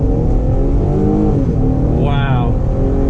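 A 2003 Infiniti G35 Coupe engine holds a low, steady drone near 2,000 RPM as the car slowly rolls forward, with a rising whine late on. Someone talks over it.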